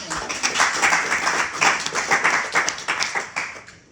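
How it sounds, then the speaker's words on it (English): Meeting audience clapping for a guest, a moderate, fairly quiet patter of hands from a modest group, rising and falling irregularly before fading out toward the end. "a big round of applause for Kathleen, please."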